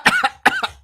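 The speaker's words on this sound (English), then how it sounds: "I just wanted to cough in the mic really hard" Two sharp, harsh coughs right up close to the microphone, one after the other, loud and dry.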